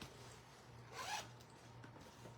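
A zipper bag being handled while crafting: a faint, quick zipping rasp lasting about a quarter second, set against a low steady hum and quiet room noise, with no talking.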